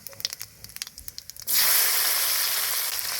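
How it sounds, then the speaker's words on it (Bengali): Chopped onion and tomato hit hot oil in a wok with bitter gourd, potato and whole spices: a few soft clicks, then a sudden loud, steady hiss of sizzling that carries on close up to the end. "এবার দিয়ে দিব কেটে রাখা পেঁয়াজ টমেটো দিয়ে দিব"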